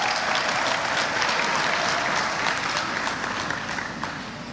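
Sustained applause from a large audience at a university convocation ceremony, dense and steady clapping that tapers slightly toward the end.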